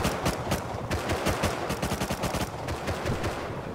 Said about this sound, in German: wir schießen hier die Wand